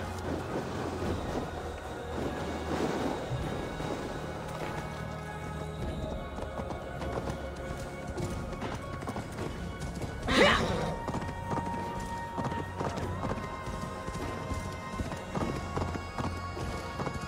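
A horse gallops in Assassin's Creed Valhalla, its hooves beating a steady, rhythmic clip-clop throughout, with a soft whinny-like swell near the middle and no talking.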